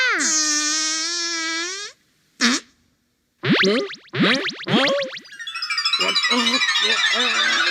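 Cartoon fart sound effect from the anime Dr. Slump, a long buzzy tonal blast lasting about two seconds, followed by short comic sound effects and animated voices, then a rough noisy burst at the end.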